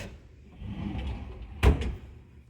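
A large, deep kitchen drawer slides with a low rumble, then shuts with one solid knock, followed by a faint rattle.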